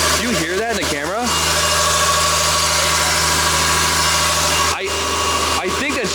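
A BMW E30's engine idles with a rough, noisy intake, a steady close mechanical drone with vibration, while people talk over it at the start and near the end.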